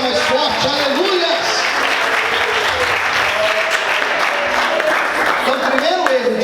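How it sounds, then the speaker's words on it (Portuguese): A church congregation breaks into louder, steady applause during a sermon, continuous crowd clapping with voices calling out over it. "aplauda mais forte"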